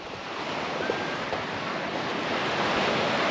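Wind roars steadily across an exposed stretch of Misery Beach in Albany, with waves breaking beneath a constant broadband rush and no voices.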